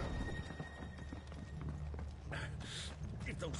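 Horses gallop in the Final Fantasy XVI video game, with rapid hoof clatter under loud game effects, bursts of noise and talking throughout.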